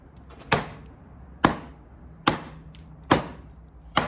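Mega RYNO Bowie knife dropped under its own weight into wood, five sharp chopping thuds spaced about a second apart, close and loud with quiet gaps between strikes.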